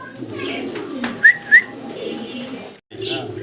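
Pigeons coo softly close by, with a low murmuring throughout and two brief, sharp whistling chirps near the middle, against faint background voices.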